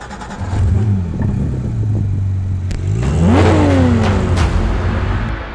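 A Porsche 911 GT3 from 2017 revs hard close by, its engine note climbing and falling through a sharp rise to a peak before settling back, loud and alone.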